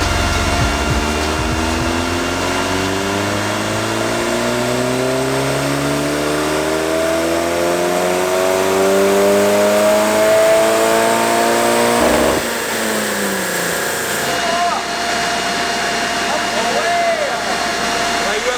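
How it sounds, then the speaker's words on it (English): A Toyota MR2 with an aftermarket ECU revs hard on a dyno, its loud engine note climbing steadily in pitch for about twelve seconds before dropping off abruptly and settling into a rough, lower idle. "we have a dyno and my car's here, may as well throw it on, right?"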